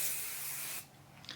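A short aerosol hairspray burst hisses close by for under a second, then stops, leaving faint rustling.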